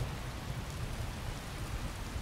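Steady hiss of rain in Skyrim, an even wash of falling drops that stays constant throughout, with no voices.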